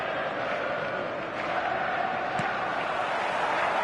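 A large football crowd on match day, a steady loud roar of massed voices and chanting that holds without pause, with a faint sharp accent partway through.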